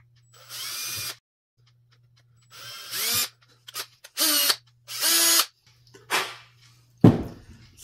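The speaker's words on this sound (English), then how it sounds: "We're going to drill this out." Several short bursts of a power drill whirring up and stopping, close by, with pauses between runs and a clunk at the end, while drilling out a part during a volt meter install on a 1979-86 Fox Body Mustang.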